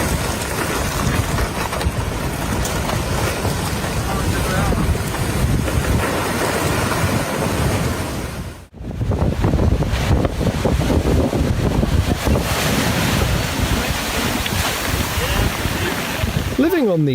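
Heavy surf and wind crash continuously, loud and close, with a brief dropout midway before the churning water resumes.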